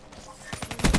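Shotgun blasts in Call of Duty: Black Ops III come as a quick run of sharp reports that swell louder toward the end, rapid and close.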